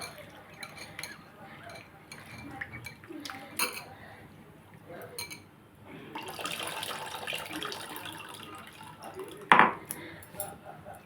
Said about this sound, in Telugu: ఈ నీళ్ళు కూడా వేసేసుకుందాం